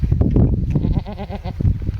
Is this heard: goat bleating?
yes